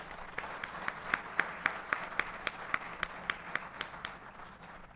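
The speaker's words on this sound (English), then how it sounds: "I think we should welcome them with a huge applause" Applause from the audience welcoming new management trainees at a Steel Authority of India Limited induction programme: steady, evenly spaced claps in a quick rhythm, moderately loud and fairly close.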